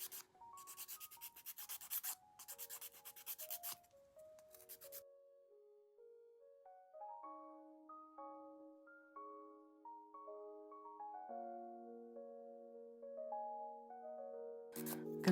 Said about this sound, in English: just to get some of the polish that we're lifting up now by filing it